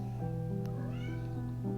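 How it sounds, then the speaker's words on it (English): A house cat meows in the background, a short, clear call over a steady tonal backdrop with no talking. "sorry if you hear meows in the background. It's just my cat."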